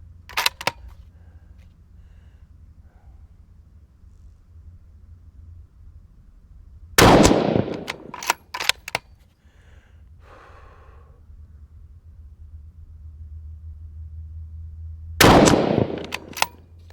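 Rifle shots fired off a barricade at 200 yards crack out sharply in sparse bursts, two clustered groups followed by a later single loud report, with quiet gaps and faint rustling between.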